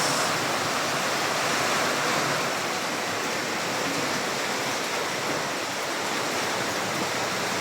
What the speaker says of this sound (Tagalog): yung baha dito guys sa kalsada